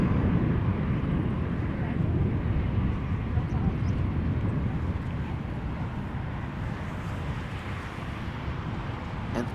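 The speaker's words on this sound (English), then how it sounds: "Next up, Delta Airlines flight 74, Airbus A330-300," A Delta Airlines Airbus A330-300 arriving at Amsterdam Schiphol Airport from Atlanta, heard up close as a loud, steady jet roar that holds throughout, with some wind buffeting the microphone.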